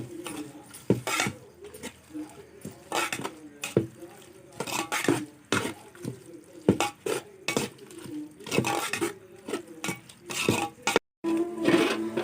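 Curry leaves and coriander are stirred and sautéed in a pan for chicken biryani, with repeated scraping, clinking utensil strokes and sizzling in uneven bursts, close and fairly loud.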